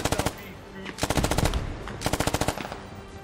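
Bursts of machine gun fire in the tactical shooter SquadOps, three rapid strings of loud automatic shots with a short gap between each burst.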